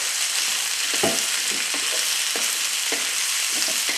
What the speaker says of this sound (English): we're going to want to fry these peppers for a few minutes